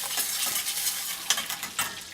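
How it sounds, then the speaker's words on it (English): Minced garlic hits a hot pan with a bright, steady crackling sizzle, close and continuous, with a few louder spits and a faint stir or two near the end. "So we're gonna go ahead and add that minced garlic."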